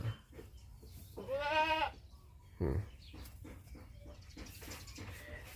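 A goat bleats once, a wavering nasal cry, then a shorter call follows; birds chirp faintly in the quiet outdoor background.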